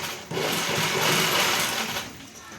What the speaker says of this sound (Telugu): ఇలా అడ్జస్ట్ చేసుకుంటూ మెల్లగా ఇలా కుట్టండి